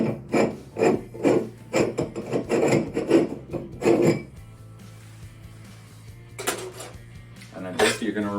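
A glass jar is twisted out of an incandescent light fixture, giving a run of close rhythmic rasping scrapes and glassy clinks, then a quieter stretch with a couple of sharp knocks.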